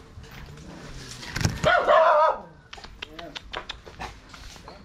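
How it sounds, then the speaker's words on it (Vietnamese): A dog barks nearby on a street with short sharp yaps and a drawn-out whine, mixed with people talking over it. "Coi chừng chó á"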